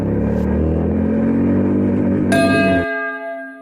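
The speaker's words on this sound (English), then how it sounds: "Acceleration very mildly, just to see the top speed of the first gear." Royal Enfield Interceptor 650 engine revving steadily upward in first gear, loud and close, ending with a high ringing tone and a sudden drop as the throttle closes.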